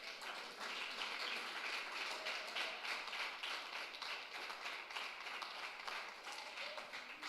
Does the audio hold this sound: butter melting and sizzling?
no